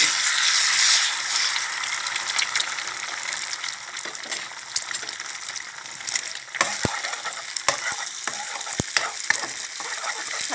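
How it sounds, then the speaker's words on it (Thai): Egg added to a pan of garlic fried golden in oil, a loud continuous sizzle with sharp pops and clicks of stirring throughout, no voices. "พอกระเทียมหอมแล้วเดี๋ยวเราก็ใส่ไข่ก่อน"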